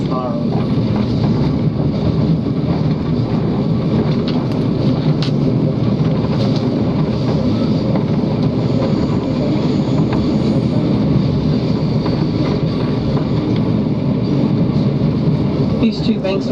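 The Overlander passenger train climbs the Raurimu Spiral, heard as a steady, dense rumble and rattle of wheels and carriage that holds level, loud and close, throughout.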